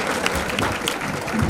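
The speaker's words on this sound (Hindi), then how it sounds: "तालियों से आप लोग स्वागत करेंगे।" Audience at a ceremony honoring mothers and children's success applauds in welcome, a dense, continuous burst of clapping from a crowd.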